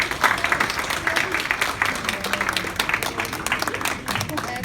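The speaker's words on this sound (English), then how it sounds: "can we give them a round of applause?" A room applauds a working committee at a company welcoming event for SL1M trainees, brisk sustained clapping from a mid-sized crowd at close range.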